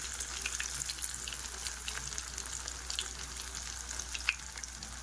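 Snails (nattu gorakalu) fry in oil in a pan, giving a steady, close crackling sizzle with scattered sharper pops throughout, and no one speaks.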